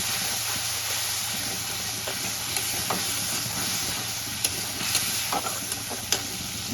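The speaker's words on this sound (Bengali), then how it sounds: "সব মশলাগুলো আমি দিয়ে দেবো। দিয়ে এবার আমি একটু কষিয়ে নেব।" Soaked ground spices, including turmeric, fry in a pan for a panch phoron rohu fish curry, giving a steady close sizzle and hiss with a few faint crackles and stirring scrapes, no talk.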